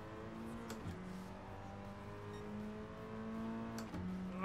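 An overpowered race car engine in GT Sport, the engine droning steadily as it revs up through the gears with clear shift drops, close and moderately loud, no talking.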